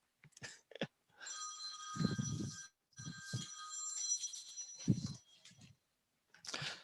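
A phone rings during a Vermont task force meeting on pupil weighting factors, its electronic ringtone repeating in several bursts with short pauses, close and fairly clear, while a voice speaks softly in the gaps.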